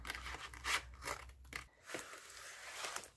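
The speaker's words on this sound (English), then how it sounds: "Just need scissors for the last little bit." Scissors snip and tear through packaging for an art book, a few close crisp cuts mixed with crinkling and ripping, quiet and without talk.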